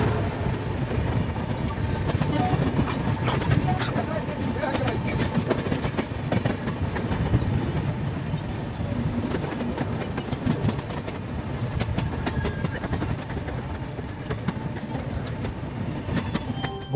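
The Howrah–Kalka Netaji Express (12311) runs at night between Ghaziabad and Delhi, giving a loud, continuous rumble from inside the train with rhythmic clickety-clack of wheels over rail joints and no talk.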